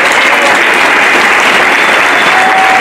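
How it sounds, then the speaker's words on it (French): Loud, sustained audience applause fills the room at a 2019 sports awards ceremony honouring local ski champions in Isola, a dense steady wash of clapping with no pauses. "Déjà on peut l'applaudir à ce niveau-là."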